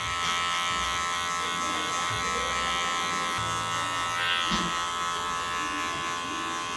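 Electric hair clippers cutting a fade during a pompadour haircut, a continuous close buzzing hum that holds steady with slight changes as the blade moves through the hair.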